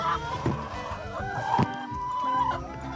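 Laying hens cluck in a layer flock, with several close, overlapping clucks and squawks in uneven bursts over steady coop background noise.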